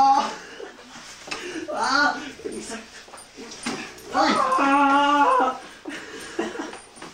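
Dogs whimper and yip in short bursts, with a longer whining cry partway through, mixed with quieter sounds in between.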